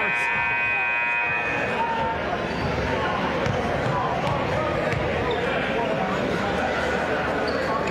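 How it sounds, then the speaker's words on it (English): A loud basketball game buzzer sounds at the start over a noisy gym crowd at a boys' all-star basketball game, with steady background din throughout. "That buzzer"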